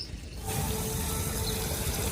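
Water is sprayed onto a tree in a home yard: a steady, close hiss of spray that starts about half a second in and runs evenly to the end, with no voices.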